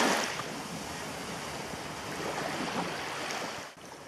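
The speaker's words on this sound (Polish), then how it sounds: "Morze." Sea waves wash onto a beach in a steady, close, broadband roar with some wind, sustained without pause and no voices.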